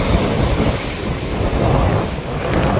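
Sea waves surge against the Jaffna coast in a constant, loud roar of churning surf, blended with gusty wind buffeting the microphone, with no breaks or quiet spells.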